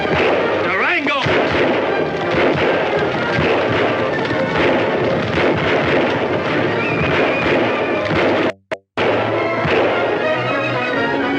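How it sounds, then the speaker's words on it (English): A shootout in a Durango Kid western plays out as rapid, loud gunfire: dense volleys of sharp shots and cracks that overlap almost continuously. There is one brief dropout near the end. "Don't you know the shooting's all over?"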